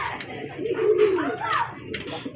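A pair of pigeons coos softly up close, a low rolling coo rising and falling over about two seconds amid a quiet background, with a faint voice in the room.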